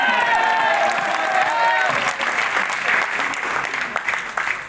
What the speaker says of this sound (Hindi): ताली बजाइए, एनर्जी में।